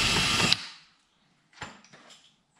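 Rivets go into the ZL1 conversion kit on a sixth-generation Camaro SS, with a short close whirring burst from a power tool followed by a pause and then a quick series of clicks and rattles.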